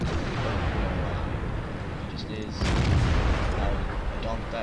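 A tank cannon shot booms in World of Tanks, a T-54 battle, landing around 2.6 seconds as a loud low blast over steady engine rumble and continuous game noise.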